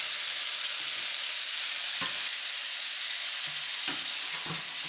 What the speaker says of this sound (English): You stir them a little bit.